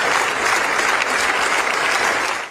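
Applause at a memorial service in Crans-Montana, Switzerland, honouring the town's firefighters: a dense, steady wash of many hands clapping, loud and sustained before tapering off at the end.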